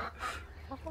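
Chickens and roosters on a farm give a couple of brief, soft clucks, faint and close together in a very short moment against low background noise.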